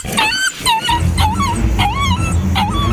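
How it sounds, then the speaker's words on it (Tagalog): A dog in a Filipino radio horror drama barks and whimpers in repeated high yelping cries over a steady low rumble, loud and close. "Parang galit na galit yung aso ko."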